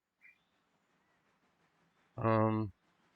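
A locomotive in the railway game Railroader gives one short, loud horn blast of about half a second, standing out against a quiet rail-yard background after a faint earlier chirp.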